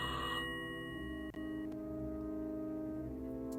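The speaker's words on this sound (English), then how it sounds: "But first we have to answer the phone." A telephone rings in the Rusty Lake Hotel video game, a sustained electronic tone that fades quietly into a soft background hum, heard alone without talk.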